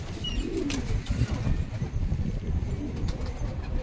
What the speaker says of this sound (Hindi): एक से एक कबूतर है